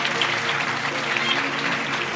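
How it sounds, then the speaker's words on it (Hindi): Church congregation clapping loudly in thanks to God during a Hindi Bible study service, a steady dense wash of applause that holds through the whole stretch, with a faint hint of voices underneath. "जोरदार ताली बजाकर परमेश्वर के लिए धन्यवाद दें।"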